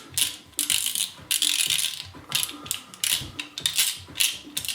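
A 14000 XTD fishing reel with carbon clutch washers clicks its drag in quick ratcheting bursts, close and crisp, with short pauses between runs.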